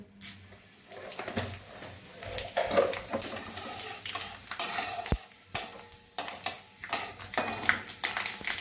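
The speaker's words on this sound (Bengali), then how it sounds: "এখানে দিয়ে দিচ্ছি 5 ফোড়ন।" Panch phoron spices frying in a pan for a sour-spicy-sweet jujube (kul) pickle, with scraping clinks of a spoon stirring against the metal and a light sizzle, close and steady with no talking.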